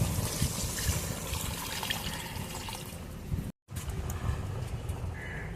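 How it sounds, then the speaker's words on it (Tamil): Soaked rice and water poured into a cooking pot, a continuous close splashing trickle that cuts off briefly, then resumes more softly. "இப்போ நம்ம அரிசி வச்சிருந்த அரிசி இப்போ நம்ம தண்ணியோட ஊற்ற போகிறோம்."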